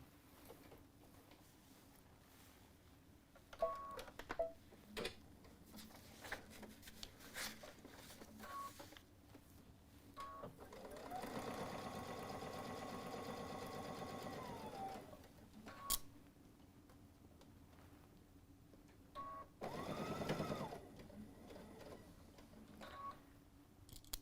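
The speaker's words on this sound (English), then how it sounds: "she'll be at the sewing machine." A sewing machine's steady mechanical whirring hum runs for several seconds, stops, then returns in a shorter burst, with faint clicks and handling noises around it, quiet and close.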